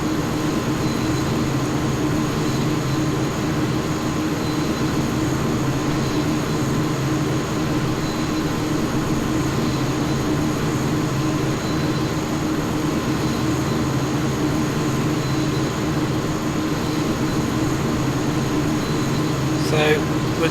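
A steady, dense drone of an aircraft cabin on approach to landing at Memanbetsu airport in Microsoft Flight Simulator, continuous engine and airflow hum throughout, with a voice talking over it at times.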